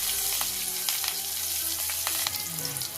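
Slit green chillies frying in hot oil for Bengali tel koi, a close, steady crackling sizzle with a few brief pops and stirring touches, heard alone without any talk.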